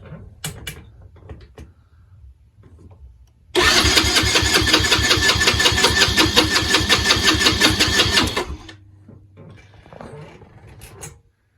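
A Yamaha Raptor 90 ATV engine cranks over steadily for about five seconds during a compression test, a loud rapid rhythmic chugging that starts abruptly and cuts off, with quiet handling clatter before and after.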